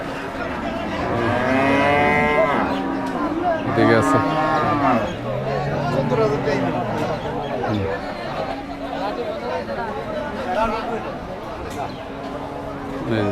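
At the Kaitala cattle market, cows give several long, drawn-out moos, some close and some farther off. People talk and chatter throughout.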